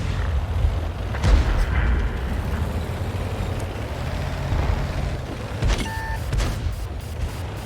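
An Astron Rex tank in a video game fires its cannon in a deep boom, then rumbles steadily before a sharp mechanical reload clank and a short electronic tone near the end.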